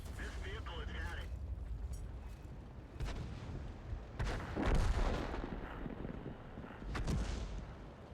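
Heavy booming artillery impacts rumble over a loud, constant engine drone in a tank combat video game, with several deep blasts spread across the clip and a voice speaking underneath.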